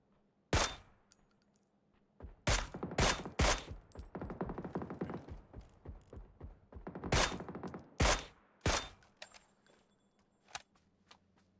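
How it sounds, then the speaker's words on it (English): Gunfire in the battle-royale game PUBG rings out during a pro scrim match, with several sharp single shots and quick bursts spaced irregularly, loud against a quiet background. "Maybe slightly distracted by the gunshots elsewhere."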